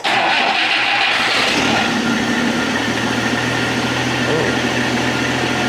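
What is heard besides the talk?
1962 AMC Rambler engine starting and idling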